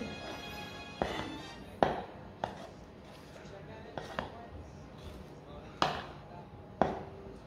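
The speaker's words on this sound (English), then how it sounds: "the dry ingredients are all stirred" A spoon stirs dry ingredients for sugar-free gingerbread cookies in a bowl, giving off about seven sharp, irregular knocks and scrapes against the bowl over a quiet room background.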